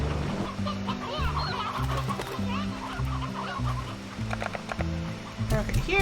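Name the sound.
chickens and roosters clucking in Slime Rancher video game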